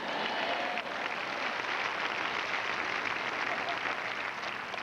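A church congregation applauds during an evening sermon, a steady mid-level patter of many hands clapping together that carries on evenly throughout.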